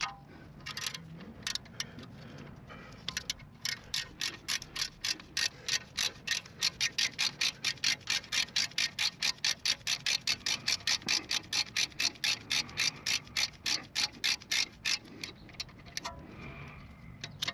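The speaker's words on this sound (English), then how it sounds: "Give my socket wrench in." A socket wrench ratchets on the rear brake caliper of a 2019 Volvo T6. Its rapid, evenly spaced metallic clicks run in a long close-up burst after a few scattered clicks.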